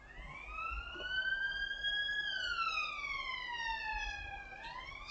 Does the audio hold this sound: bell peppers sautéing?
no